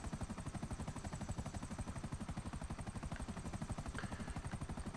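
A video game aircraft engine drones steadily with a fast pulsing beat, moderately loud and unbroken, with no voices over it.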